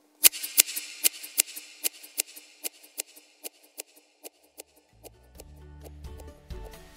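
Large scissors snip repeatedly in a steady, crisp rhythm, more than a dozen sharp close cuts that slowly fade before a low rumbling sound takes over at the end.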